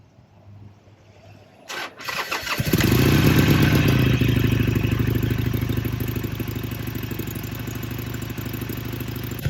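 A Harley-Davidson Sportster Iron motorcycle engine cranks and fires up, then settles into a loud, steady, lumpy idle that runs alone and close by.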